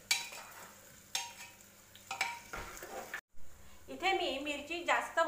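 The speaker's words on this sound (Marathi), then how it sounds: "आता मी इथे मीडियम साईजचे 2 कांदे घेतलेले आहे, ते पण इथे मी टाकणार आहे" Two medium onions and green chillies hit a hot pan for a spicy Khandesh brinjal bhaji, with faint sizzling, scraping stirs and a utensil clink, building into louder frying toward the end.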